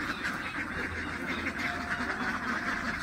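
A dense crowd of domestic ducks (itik) just unloaded from a truck at a duck farm, quacking continuously and loudly as an overlapping, steady din with no pauses.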